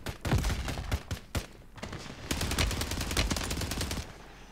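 Rapid bursts of gunfire from the shooter game Warzone, a few sharp single shots followed by a sustained automatic volley, loud and close with no talking.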